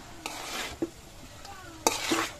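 Meat is stirred in a pan with soy sauce nearby, giving a soft sizzle under a few distinct scrapes and clinks of a utensil against metal, spaced irregularly and fairly close.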